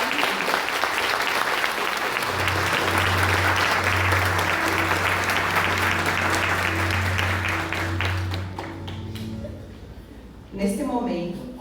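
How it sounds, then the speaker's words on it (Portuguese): Loud, dense applause at an award ceremony in a municipal council chamber, clapping steadily for about nine seconds before fading out as a voice begins speaking. "solicitamos uma salva de palmas dessas mulheres que trabalham aqui"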